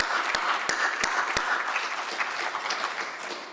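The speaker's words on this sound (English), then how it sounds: "Let's give them a huge round of applause." An audience at an industry and stakeholder engagement forum breaks into steady, dense applause, with a few sharp nearby claps standing out early before the clapping carries on evenly.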